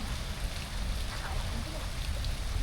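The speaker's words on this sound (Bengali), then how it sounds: "একদিকে বৃষ্টি হচ্ছে আর একদিকে রান্না রান্না পর্ব চলছে" Steady rain patters on a surface, a dense continuous hiss with low rumbling underneath, filling the whole moment without letting up.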